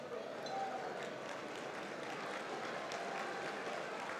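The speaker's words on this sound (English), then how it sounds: "Give them a round of applause." Audience applause at a community gathering honouring table ambassadors for El Centro de la Raza, a faint, steady wash of clapping from a crowded room, with some voices mixed in.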